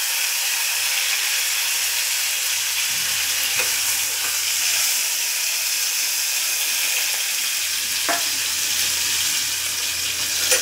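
Chopped tomato frying in a pan for stuffed eggplant gives a continuous bright sizzle, close and even, with a couple of soft clinks or taps from a utensil and no talking.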